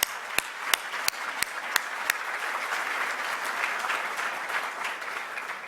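A room of diners applauding at a formal evening dinner, starting with a few sharp individual claps before swelling into sustained, dense clapping from a crowd.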